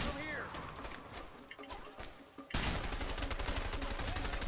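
Rapid gunfire in the video game A Way Out, a close sniper-rifle fight. Scattered sharp shots give way halfway through to a dense, loud, sustained barrage, with game sounds mixed in.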